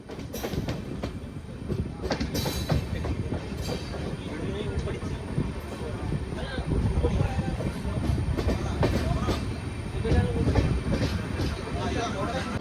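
An Amrit Bharat express running from Thiruvananthapuram to Mangaluru rolls into Kayamkulam junction with continuous rhythmic wheel clatter and rumbling carriages heard from on board, loud and steady.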